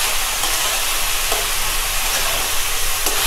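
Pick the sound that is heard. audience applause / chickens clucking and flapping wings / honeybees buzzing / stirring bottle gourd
stirring bottle gourd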